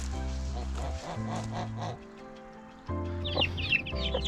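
Chickens and young chicks in a backyard coop yard cluck in low bursts nearby, followed by high, quick chick peeps toward the end.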